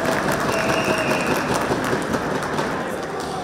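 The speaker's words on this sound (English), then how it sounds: "A big round of applause again to Team Synergy and sponsors." Crowd applause in a conference ballroom, a broad continuous wash of many hands clapping at steady level, with some murmuring from the audience underneath.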